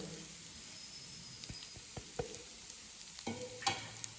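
Semolina toasting in ghee in a pan for a sweet, a quiet crackling sizzle with scattered scraping stirs and a few clinks of the spoon building toward the end, close and soft.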